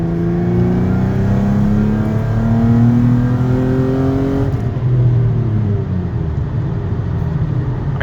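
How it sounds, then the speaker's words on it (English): Nissan Altima's VQ V6 engine revving hard, a loud steady drone with rising and falling pitch sweeps over several seconds, heard from close by with no talk. "Some people hate the sound of VQs. I love the sound of this VQ."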